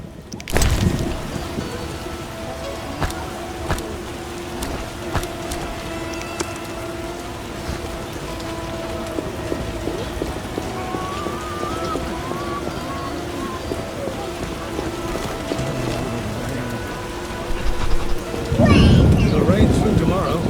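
Steady rain falls in The Witcher, a constant moderate hiss with scattered drops under occasional background voices, building briefly louder near the end.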